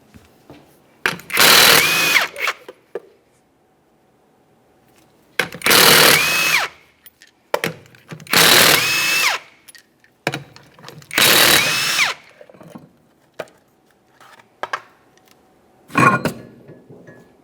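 Power tool spinning off the 19mm lug nuts from the rear wheel of a 1994-1997 Honda Accord: about five loud, close whirring bursts of a few seconds each, separated by quiet pauses.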